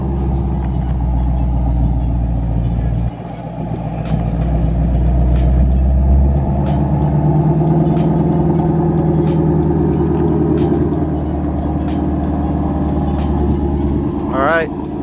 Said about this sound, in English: Cold start for you guys.